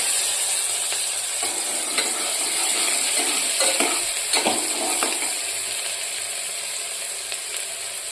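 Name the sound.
sautéing chopped spring onion whites in a pan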